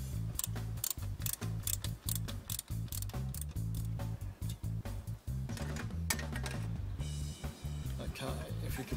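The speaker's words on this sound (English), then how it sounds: "So we're going to remove that bolt to get that pipe out." A ratchet clicks rapidly and steadily while a bolt comes off the high-pressure transmission pipe on a Mercedes ML-class 722.9 gearbox. The clicking is close and continuous throughout.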